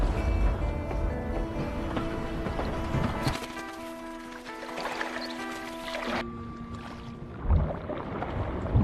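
A kayak paddled along a river, with irregular paddle strokes and water splashing and dripping close by, and no voices.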